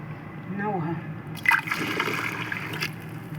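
Water is poured into a bowl of dough mix made with sugar, vanilla, baking powder, salt, Nido milk powder and yeast, a soft brief splash and trickle with faint background murmur.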